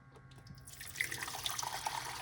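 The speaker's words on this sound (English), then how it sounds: "I'm gonna add some hot water." Hot water is poured over rosemary for tea, beginning after a quiet moment as a steady, close pouring splash with small bright trickling notes.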